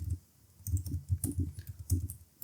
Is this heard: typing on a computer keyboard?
yes